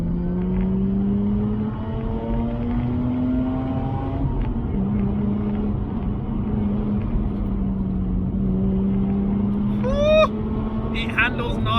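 A 231 bhp Mazda RX-8 pulls hard in second gear from 4,000 rpm. Its engine note climbs steadily in a loud, sustained drone, then shifts, and a brief high squeal rises near the end.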